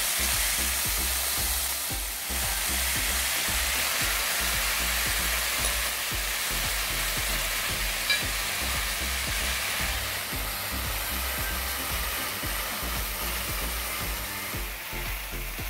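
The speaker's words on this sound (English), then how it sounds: "Now I'm frying the meat for the kids." Continuous sizzling of bulgogi meat frying in a pan, a steady crackling hiss with occasional stirring, no voices.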